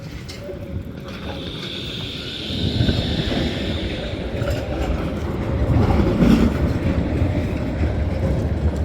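A tram rolls past on a city street in Sofia with a low rumble that swells in the middle and later, over steady street ambience.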